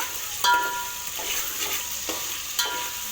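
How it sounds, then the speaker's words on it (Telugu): Vegetables sizzle and fry in a pan over a high flame for veg biryani or pulao, with a steady crackling hiss broken by a few sharp spoon clinks and scrapes against the pan as they are stirred. "స్టవ్ హైలో పెట్టేసి కలుపుకోవాలండి."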